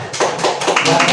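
Quick rhythmic hand claps from a primary school class, given as praise after a pupil reads aloud during a teaching practice lesson; a dense, close burst of clapping lasting about a second, with no one speaking.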